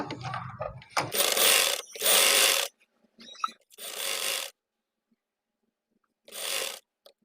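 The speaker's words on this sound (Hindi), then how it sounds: "इस एक्स्ट्रा फोल्ड किए हुए कपड़े के ऊपर हमने लगा लेनी है एक पैर की सिलाई" A sewing machine stitches across folded fabric for a kameez neckline in short loud whirring runs, four bursts with quiet gaps between them and faint clicks in the pauses.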